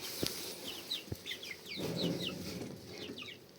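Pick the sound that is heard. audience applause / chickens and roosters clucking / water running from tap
chickens and roosters clucking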